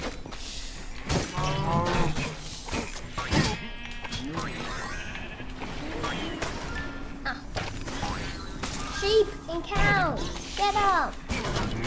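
Cattle mooing in the video game Minecraft Dungeons, several low calls scattered among game effects, music and crashes, with a person talking over much of it.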